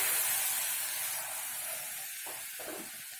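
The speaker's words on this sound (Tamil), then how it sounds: "வாட்டர்மெலன் ஜூஸை சேர்த்துடலாம்." Watermelon juice poured onto a hot tawa greased with melted butter, making a loud, steady sizzling hiss that eases off slightly over a few seconds, with no talk.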